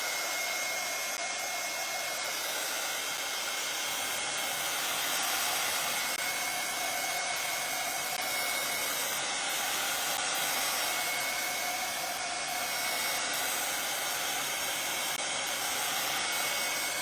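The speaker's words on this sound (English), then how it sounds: "I just got me a thing to dry my paint to help make it faster." A handheld dryer blows air to dry paint on a painted scarecrow hat band, a steady broadband whoosh that holds unchanged and close for the whole stretch, with no talking.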